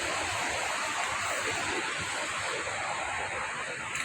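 Water rushes steadily between large tanks at a Narmada water purification plant in Khaddara village, Dabhoi taluka, as a continuous, even, close roar with no break.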